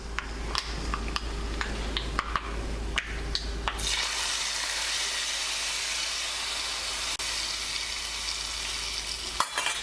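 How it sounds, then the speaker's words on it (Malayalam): Hot tempering with dried red chillies poured into a pot of pineapple pachadi gives a loud burst of sizzling and crackling that settles into a steady hiss of frying and steam, with a few stirring clatters early on. "ഇനി ഇത് ചൂടോട് കൂടിയിട്ട് തന്നെ കറിയിലേക്ക് ചേർക്കാം"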